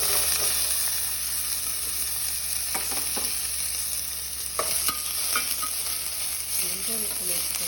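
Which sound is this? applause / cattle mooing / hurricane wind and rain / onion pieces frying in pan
onion pieces frying in pan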